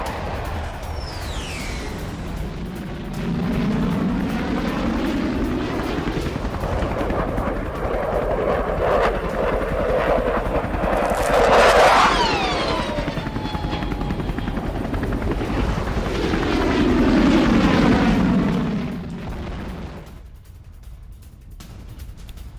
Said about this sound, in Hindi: Su-33 MiG-29 के एयरक्राफ्ट का प्रदर्शन देखिए